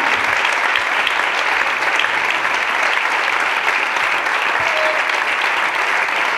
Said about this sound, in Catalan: un fort aplaudiment als tècnics de la sala Micalet, David i Ernest